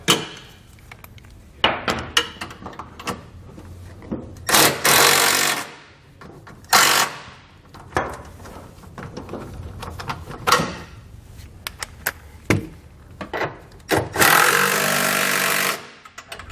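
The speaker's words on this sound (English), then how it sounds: "we'll come back with a socket and just snug everything down" A socket wrench snugs down TorkLift tie-down hardware on a 2020 GMC Sierra pickup, loud ratcheting bursts and metallic clanks in irregular spurts separated by brief pauses.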